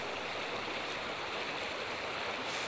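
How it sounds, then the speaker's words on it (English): River water flows steadily through a gully valley toward a swallow hole, swollen about two feet after a rainstorm, making a continuous broad rushing roar that stays close and even throughout with no voices. "So here's our river."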